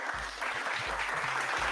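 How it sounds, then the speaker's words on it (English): A round of applause, a dense, steady wash of clapping hands from a crowd that fills the whole short stretch without pause. "let me give myself a round of applause for that damn lighting job I did tonight"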